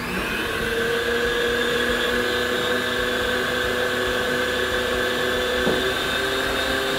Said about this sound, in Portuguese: coloca na batedeira para bater